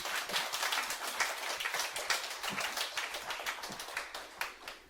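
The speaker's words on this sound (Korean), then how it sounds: "우리 박수로 환영하겠습니다." Worshippers at a Korean church service clap to welcome the preacher, producing dense, continuous applause with crisp individual claps standing out, fairly close, and fading slightly toward the end.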